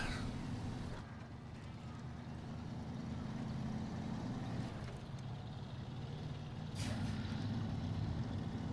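A heavy truck in the snowy off-road driving game SnowRunner rumbles steadily at low volume, with a brief hiss like an air brake partway through and no speech.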